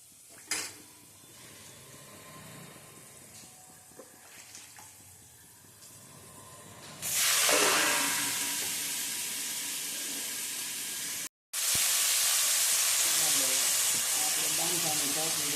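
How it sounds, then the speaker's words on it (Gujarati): Dambha greens dropped into hot oil with reddened garlic for tempering, a quiet stretch of faint kitchen noise, then a sudden loud sustained sizzle that briefly cuts off and resumes, close up. "ડાંભાની ભાજી વઘારી છે,"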